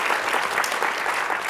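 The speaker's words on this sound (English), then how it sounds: "Can we give a round of applause to Julie, Roseanne," A room of conference attendees claps steadily in a dense, even round of applause, with no voices over it.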